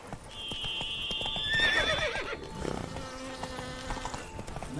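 Geralt's horse Roach in The Witcher 3, hooves clip-clopping along with a whinny and the jingle of tack, moderately close, with faint game ambience around it.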